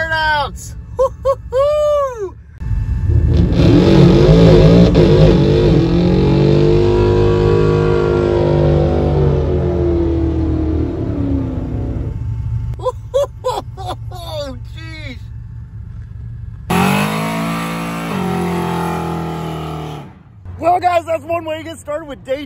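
Car engines rev and roar through street burnouts at an event circuit, a sustained loud engine drone with rising and falling pitch lasting several seconds, broken by short bursts of talk and a second harsh revving surge near the end.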